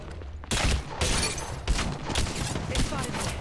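Rapid bursts of gunfire in the mobile battle royale game Apex Legends Mobile, played as Wraith, with dense overlapping volleys starting after a brief pause and continuing loudly throughout, mixed with game effects.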